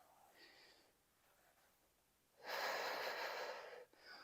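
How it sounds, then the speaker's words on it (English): Heavy exhaled breath during a core workout exercise, a quiet inhale followed by a loud, broad rush of air out lasting over a second, close to the mic. "Breathe in, breathe out."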